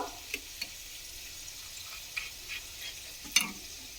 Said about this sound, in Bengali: তো দেখুন, আলুটা কিন্তু বেশ ভাজা হয়ে গেছে।